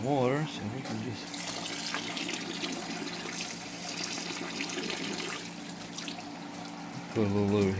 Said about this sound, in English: I didn't use all the water, so we can just